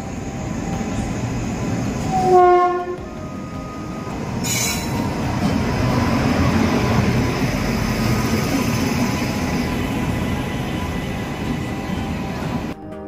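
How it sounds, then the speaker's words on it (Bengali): The Hampi Express pulling into a platform at Hospet Junction at night: a loud, close rumble of rail cars with a brief high wheel squeal early on and a short hiss, then a steady rolling drone that continues throughout. "নির্ধারিত সময়েই আমাদের ট্রেন 1 নম্বর প্ল্যাটফর্মে প্রবেশ করল।"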